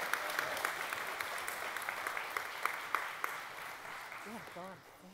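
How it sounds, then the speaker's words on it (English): An audience claps and cheers at a science-themed kitchen event, the applause rolling on before fading, with a voice rising at the end. "Give her a huge round of applause for being so brave."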